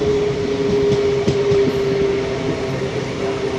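A train on the doubled Parassala–Thiruvananthapuram line runs into Thiruvananthapuram North station with a steady low rumble, a sustained humming tone and faint wheel clicks, heard from on board without talk.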